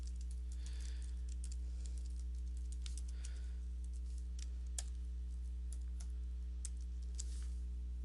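Keys tapped on a computer keyboard to type a web address: faint, irregular clicks spread across the stretch over a constant low electrical hum, with no one speaking.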